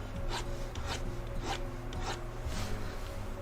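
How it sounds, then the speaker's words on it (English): A stylus scratches steadily across a drawing tablet surface, making close, soft raspy strokes in a rapid irregular rhythm over a faint steady background hum. "Drawing tablet ASMR."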